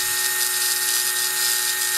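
A new DIY CNC spindle motor spins at 8,500 RPM, giving off a steady, close, high-pitched whine that holds without variation throughout.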